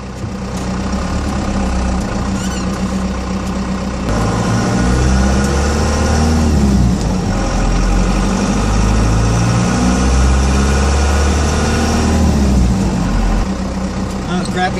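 Car engine rumbling low and steady while driving at around 20 mph on a daily commute home, a constant mid-level drone with vibration throughout the clip.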